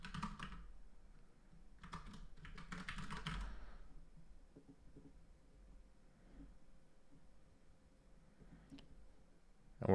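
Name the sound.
typing a name on a computer keyboard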